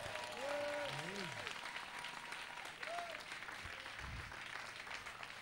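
A church congregation applauding during a French-language prayer service, with steady sustained clapping filling the room throughout while a voice carries on over it.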